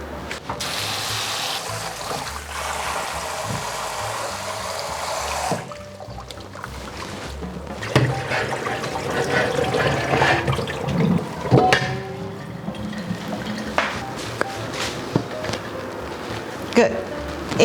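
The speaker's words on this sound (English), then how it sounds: "We're going to quickly wash in running cold water" Salted, brined cabbage for kimchi is rinsed under a running cold tap, first as a steady rush of water, then as splashing and handling noises with intermittent clunks.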